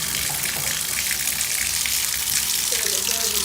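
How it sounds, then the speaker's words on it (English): Hot water pouring steadily into a MAAX jetted bathtub while it fills, a continuous broadband rushing splash that stays loud and even throughout. "So we're going to fill the tub up with really hot water"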